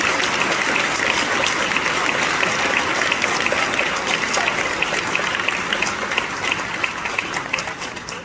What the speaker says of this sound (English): please give a round of applause for the 30 seniors graduating from the academic office